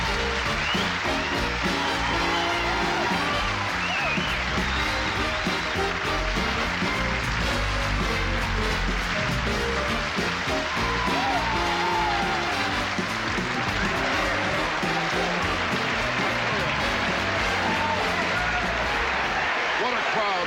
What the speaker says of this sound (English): What a crowd, what a crowd.